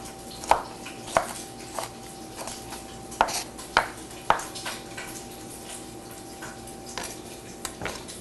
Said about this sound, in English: let's finish cutting up these onions